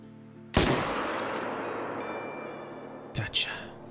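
A loud gunshot rings out in a hunting video game, fired at a piebald moose, with a long echoing tail that fades, then a pair of quicker follow-up reports near the end.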